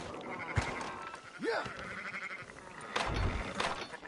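In the video game Red Dead Redemption 2, a sheep gives a short bleat amid outdoor game ambience, with a brief spoken word nearby.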